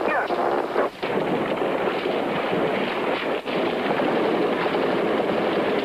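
Sustained heavy gunfire and bursts of automatic weapons during the 1993 armed assault on the Ostankino television center in Moscow, loud and continuous with wind buffeting the microphone.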